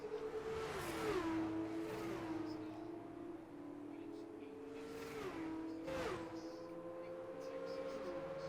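Formula 2 race cars in a racing video game at the Italy round, engines whining at high revs and shifting pitch as cars overtake into a corner, with passing swells; a commentator talks over the engine noise.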